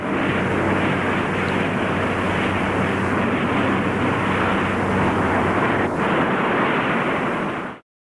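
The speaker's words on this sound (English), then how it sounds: "Historic footage captures the modified B-45's ascent on May 20th" Modified B-45 aircraft carrying a J-79 test engine taking off, a dense, roaring jet blast that stays loud and unbroken for several seconds before cutting off abruptly.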